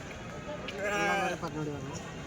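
A lamb lets out a wavering bleat at moderate distance over a soft background murmur at a weekly sheep and goat market in Kadiri.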